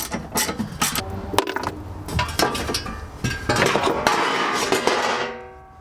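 Metal panel being pulled off inside a Mazda MX5 during a coilover install, a run of close, loud clanks, rattles and scraping knocks from sheet metal and fasteners, continuing in uneven bursts before fading out.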